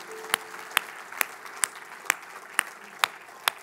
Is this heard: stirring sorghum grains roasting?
no